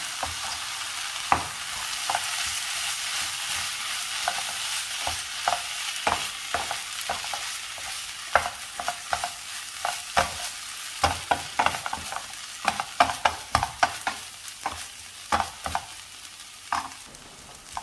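Jackfruit seed stir-fry with chilli, pepper powder and salt sizzles and fries in a pan after a splash of water, with steady hissing and frequent scraping stir strokes throughout, no voices.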